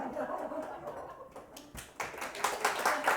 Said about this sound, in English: Round of applause for Betty being a good sport.